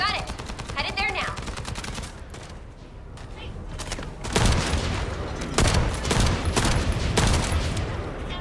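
Gunfire in The First Descendant: rapid, loud bursts of automatic shots come in clusters, with sharper, heavier volleys in the second half over game ambience.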